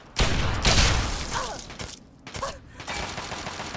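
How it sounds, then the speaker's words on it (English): Enemy gunfire in Fallout 3, a burst of loud shots and impacts followed by more scattered firing and mechanical clatter, fairly close. "Oh, he's shooting me."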